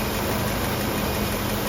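A not-yet-fully-warm engine idles steadily at a slightly rich mixture, a constant close rumble with no breaks while the idle mix screw is adjusted.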